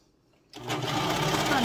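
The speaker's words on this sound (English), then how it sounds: "I am just now learning how to use my serger" A serger sewing machine starts up after a brief quiet and runs at a steady, close, rapid whir while stitching a fabric scrunchie.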